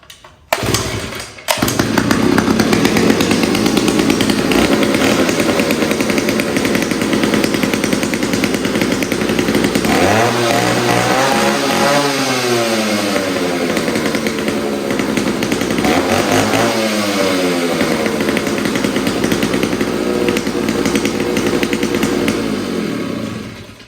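A chainsaw with a Tillotson HL carburetor starts after a few brief sputters and then runs steadily for a long stretch, a loud, close, raspy two-stroke drone with a couple of throttle dips and swells.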